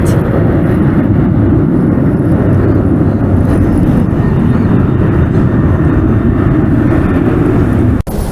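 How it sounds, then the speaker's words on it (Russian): An airplane passes overhead near a city airport, a loud, continuous broadband roar that holds steady for several seconds before cutting off abruptly at the end. "Это самолет, здесь недалеко городской аэропорт."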